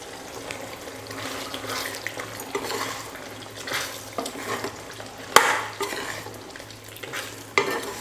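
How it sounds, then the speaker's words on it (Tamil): Plain curd being stirred into a chicken gravy in a pot, a steady scraping stir with soft sizzling and wet sloshing, one sharp clatter midway, close and fairly quiet with no talking. "இந்த தயிர் சேர்த்துக்கிறேன்"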